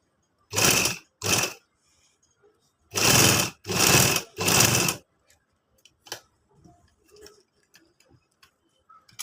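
A sewing machine stitching elastic in a straight line, five loud close bursts of rapid needle chatter separated by short pauses, then quiet handling clicks and rustles.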